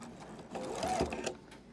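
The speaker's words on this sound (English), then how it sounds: "You can see I'm sewing just along this edge." A sewing machine stitches along the edge of a fabric face mask in a short, quiet mechanical whir with rapid needle ticking, close up.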